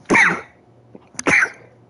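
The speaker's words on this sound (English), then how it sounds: "Oh, hold on. I gotta sneeze." A person sneezes twice in quick succession, loud and close, with a short quiet gap between the two bursts.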